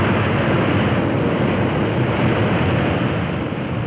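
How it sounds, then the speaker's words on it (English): A propeller airliner's engines roar as the props reverse pitch to brake after touchdown, a loud, dense, unbroken rumble and wash of noise that holds steady throughout. "you hear the engines roar soon after you're on the ground, remember that's what he's doing, reversing the props to stop the airplane"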